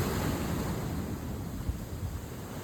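Rough sea waves surge and wash in a loud, continuous roar close by, with wind buffeting the microphone and no voices.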